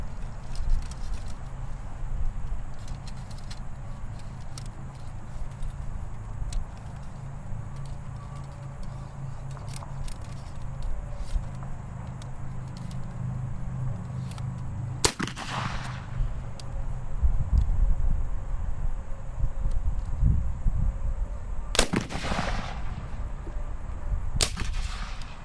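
Civil War infantry muskets fire one by one in an outdoor independent-firing demonstration, three sharp separate reports at irregular intervals over steady background noise, with a faint voice at times.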